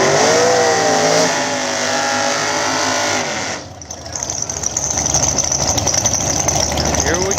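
Nitrous-fed and ProCharger-boosted small-tire outlaw drag cars at a night street-style event: loud engines idle and rev, then drop and roar off down the track as a crowd and an announcer talk over them.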